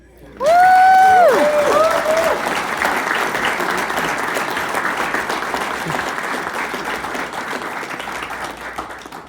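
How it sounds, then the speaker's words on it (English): An audience applauds loudly as a Hall of Fame inductee is welcomed at a school athletics induction, the clapping swelling quickly and holding steady. A brief electronic tone sounds near the start. "Please join me in a round of applause"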